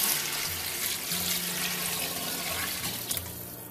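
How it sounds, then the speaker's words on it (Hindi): Water pours steadily from a jug into a cooking pot for chicken corn soup, a continuous close rushing splash lasting several seconds with no talking. "अब इसमें मैं पानी डाल रही हूँ"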